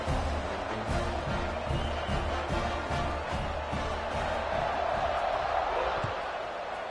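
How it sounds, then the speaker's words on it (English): Stadium crowd in EA Sports College Football 26 roars in a steady, dense wash after a score, loud and continuous throughout, with a commentator's voice running over it. "this crowd is buzzing after that last score"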